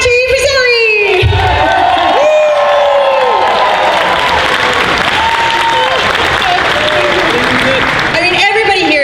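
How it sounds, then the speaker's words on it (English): Applause and cheering at the Dragon Con 2016 Friday night costume contest as Best in Show is announced. A large indoor crowd claps loudly and steadily, with whoops and shouts, while an announcer talks over the noise. "they can clap again"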